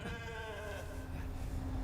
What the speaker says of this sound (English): Ah, pet the sheep.